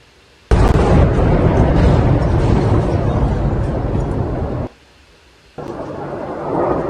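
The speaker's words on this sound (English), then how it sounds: "several large explosions reported in Kyiv" Huge, roaring explosions in Kyiv: one rumbles for several seconds, drops away briefly, then another heavy blast surges back, loud and close.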